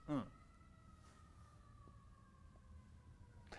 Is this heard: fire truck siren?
yes